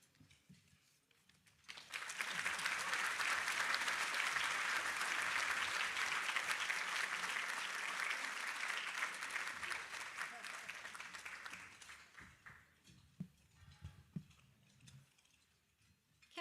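A luncheon audience at a Mental Health America of Greater Houston awards event gives sustained applause for Ann and her family, a dense wash of many hands that swells quickly, holds steady, then thins out into scattered claps and room murmur.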